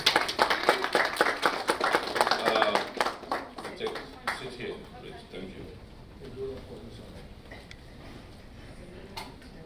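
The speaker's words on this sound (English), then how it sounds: "Please give her a round of applause." An audience claps for a panel chair at a business conference on creative and sports industries, separate claps that start loud, thin out and fade into scattered taps under room noise.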